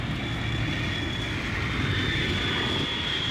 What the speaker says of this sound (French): Hey, regarde là-bas, il y a un avion.